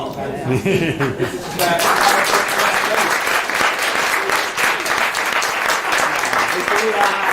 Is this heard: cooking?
no